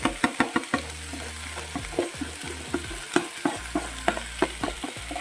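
Spices go into a pan of frying sweet pumpkin flower curry. Sharp scraping spatula strokes repeat in an uneven rhythm over a continuous sizzle, close and with no talking.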